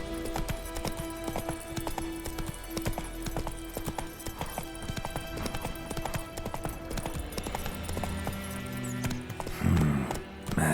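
Rapid clip-clop of Roach the horse galloping in The Witcher 3, a steady drumming of hooves over continuous game ambience, ending with a brief louder flourish.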